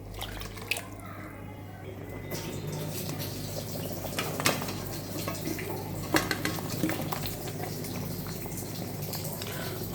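Fish curry with mustard paste and green chilli bubbling in a pan, a continuous close simmering burble with occasional drips and clinks of utensils.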